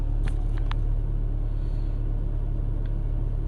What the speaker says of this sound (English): the car coming towards me